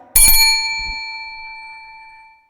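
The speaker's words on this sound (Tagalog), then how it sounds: "A bell or buzzer will sound 3 times" A single bell strike signals speaking time at a provincial candidates forum, a sharp ding that rings on with a long, steady metallic decay for about two seconds, close and clear with no talking.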